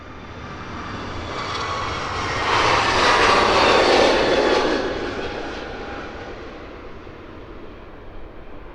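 At Luton Airport, an aircraft on the south apron runs its engine at high power, a broad steady roar that swells louder in the middle and then eases back, with no voices.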